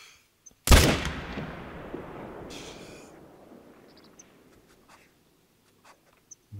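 A shotgun fires once in the hunting game The Hunter: Call of the Wild, a loud sharp blast that rolls off into a long fading echo, followed by a few faint clicks and quiet handling sounds.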